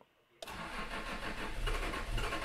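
After a brief quiet moment, a car engine cranks and catches, then settles into a loud, steady running roar close by.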